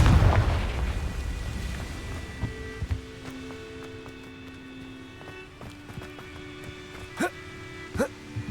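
A fire spell from the video game Hogwarts Legacy bursts in a deep, booming blast with a rumbling decay, followed by a steady game tone and a few soft thuds and clicks.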